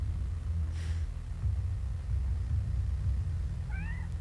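A pet cat lets out a short meow near the end, heard over a low steady indoor rumble, with a faint earlier sound around the first second.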